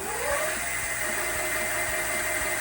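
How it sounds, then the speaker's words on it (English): A Tezeus Swift e-bike motor spins freely on pedal assist, its whine climbing in pitch and then holding steady over a faint, regular ticking. It is loud and continuous, with no talking. "And now, let's put it on assist. Let's give it a little bit of a free spin test."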